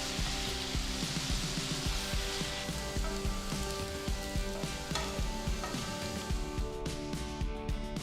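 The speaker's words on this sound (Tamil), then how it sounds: "இந்த கிழங்கை எண்ணெயில் சேர்த்து எல்லா பக்கமும் பொன்னிறமாக வர வரைக்கும் நல்லா ஃப்ரை பண்ணி எடுத்துக்கலாம்." Cubed potatoes fry in oil in a pan for a vegetable curry, a dense continuous sizzle and crackle up close with occasional light stirring.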